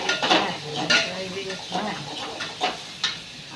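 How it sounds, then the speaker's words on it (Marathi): Potato goes into a hot pan with chilli, turmeric and salt and is stirred, with repeated scraping and clinking of a spoon against metal and soft sizzling underneath. "आता मी बटाटा ह्याच्यामध्ये घालते."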